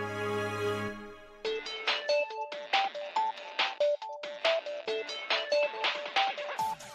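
A mobile phone ringtone plays loud and close, a bright melodic tune of rapid repeating tonal notes after a brief low sustained chord, filling the whole stretch with no talking.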